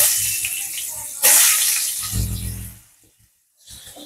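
Potatoes hit hot oil seasoned with kalo jeere (nigella seeds) and give a sudden loud sizzling hiss that settles into softer crackling, then briefly goes quiet before the sizzle returns.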